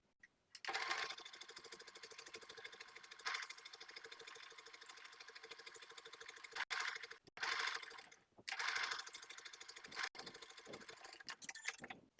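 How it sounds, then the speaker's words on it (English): Close, quick stitching from a sewing machine as a knit top's gathered front bodice is joined to the yoke, running in several bursts separated by brief stops. "I'm going to sew straight across with a 3/8 inch seam allowance"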